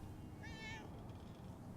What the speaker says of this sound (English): I'm a kitty. Look. Meow. Meow.